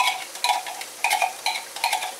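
Spoon stirring homemade ground beef soup in a pot, a series of light scraping, clinking strokes in an irregular rhythm, close and fairly quiet with no talking.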